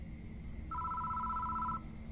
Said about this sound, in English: The phone starts ringing out of nowhere.